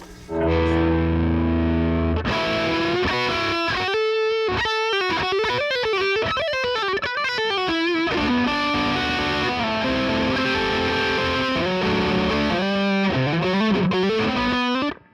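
A distorted Prisma electric guitar plays a high, singing lead line on the upper neck with bends and quick runs, loud and sustained after a brief lower chord intro.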